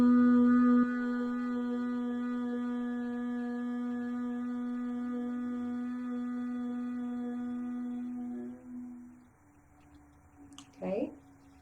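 Bumblebee breath exhale hummed with the mouth closed and tongue pressed to the palate, a steady low vocal drone held for about eight seconds before fading, followed by a brief breath.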